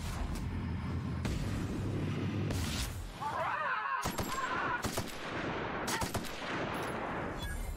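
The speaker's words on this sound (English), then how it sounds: "So there's some gun attacking from behind." Sci-fi gunfire in The Outer Worlds, dense and loud sustained shooting with sharp cracks and booms, a brief lull partway through, then more bursts.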